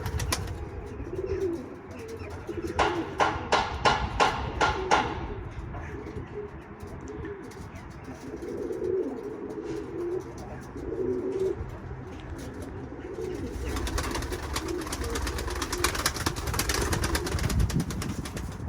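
Pigeons coo softly outdoors with a burst of wing flapping early on, followed by steady ambient rustling and noise; no one speaks.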